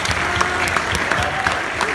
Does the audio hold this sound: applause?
yes